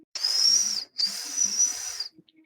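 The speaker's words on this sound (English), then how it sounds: "I do this thing called a tooth whistle because I have like a very minute gap in the top of my tooth" A person makes a tooth whistle by pursing their lips and pushing air through a tiny gap in a top tooth, giving two loud, close, hissy high-pitched whistles with a brief break between them.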